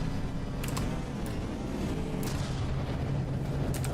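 Shells firing in a barrage in the naval combat video game From the Depths: a dense, continuous roar of rapid blasts and booms, loud and close, with sharper cracks rising out of the rumble.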